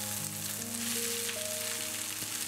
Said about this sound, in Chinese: 马上倒入豆芽翻搅